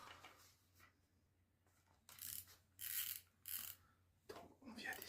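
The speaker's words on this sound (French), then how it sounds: "Donc on vient desserrer le moulinet." A fishing reel on a bottom-fishing rod is loosened, giving soft ratcheting clicks and mechanical whirring in short bursts, close and quiet against a faint background hum.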